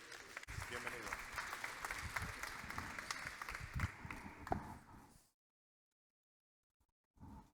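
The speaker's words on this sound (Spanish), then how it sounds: "Por favor, un fuerte aplauso" Congress attendees in Ciudad Real clap for a speaker from Irrigants Europe; close applause mixed with chatter runs about five seconds, then cuts to silence before a brief final sound.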